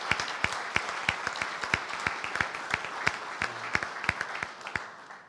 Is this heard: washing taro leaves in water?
no